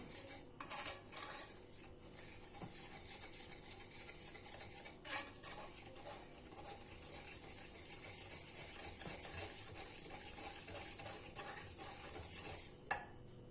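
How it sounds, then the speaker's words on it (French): Mixture for a lemon entremet being stirred in a bowl, with a utensil clinking and scraping against the sides in irregular taps and swirls, fairly close and quiet, with no talking. "Je remue le tout."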